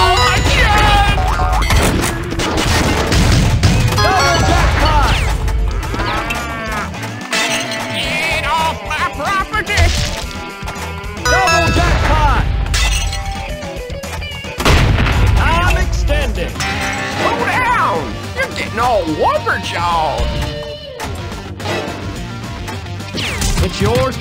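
Gunshots, crashes and booms from the Big Buck Hunter Pro pinball table in The Pinball Arcade on PC, dense and loud, mixed with game voice callouts and music throughout.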